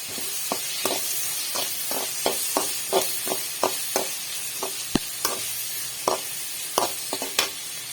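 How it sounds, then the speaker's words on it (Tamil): Crushed garlic cloves sautéing with a dried anchovy mixture, a steady sizzle broken by a run of sharp spoon scrapes and taps against the pan, fairly close, with no voices. "ஒரு பத்து பல் பூண்டை தட்டி வச்சுருக்கேன் அதையும் இது கூட சேர்த்து எல்லாத்தையும் நல்லா வதக்கிக்கலாம்"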